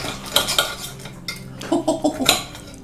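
A sharp steak knife cutting into an air-fried tomahawk pork chop on a plate gives close metallic clinks and scrapes in short irregular bursts, with no voices.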